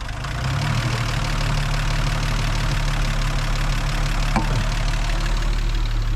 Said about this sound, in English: so after running the engine for 10 seconds